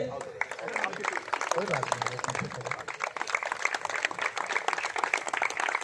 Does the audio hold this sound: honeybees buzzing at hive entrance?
no